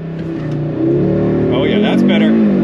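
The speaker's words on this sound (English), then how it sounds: "you know, rev up the engine and let go" A 2022 Audi RS 3 engine revs up at a launch control start, swelling in pitch and loudness into a strong, close rev, with no talk over it.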